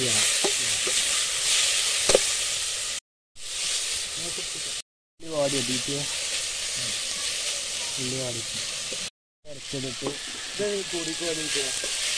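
Crab curry fries and sizzles in a pan as it is stirred, with a loud continuous hiss and scraping strokes, broken by brief cuts of silence.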